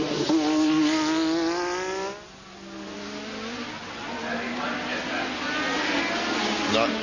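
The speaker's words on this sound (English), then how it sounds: "Nice, healthy sounding engine." Formula One race car at the 1985 Australian Grand Prix, a healthy engine screaming loudly up through the gears as it approaches, dipping as it passes near the hairpin, then revving again at a distance.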